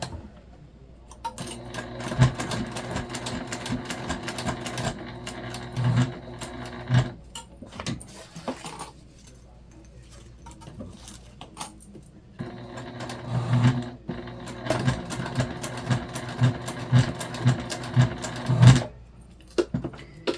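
Hand-crank sewing machine stitching a tote bag, with bulky parts taken slowly: close, rhythmic mechanical clatter in bursts, pausing briefly in between.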